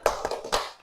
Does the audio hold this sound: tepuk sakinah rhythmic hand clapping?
yes